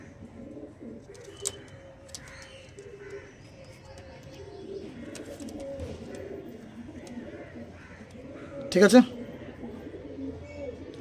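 Andhra star kalka pigeons kept in pairs coo faintly in the background while someone talks, with a louder flutter-like burst near the end.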